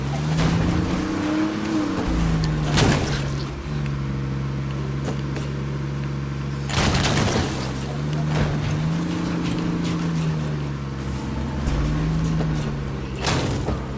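A car in State of Decay 2 drives loudly with a steady engine drone whose pitch rises and falls, broken by several sharp crashing impacts; no talk is heard.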